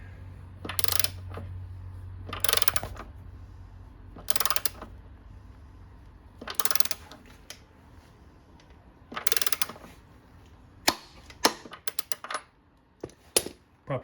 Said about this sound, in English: We'll get our socket on there and we'll start tightening this down until we hear the clicks.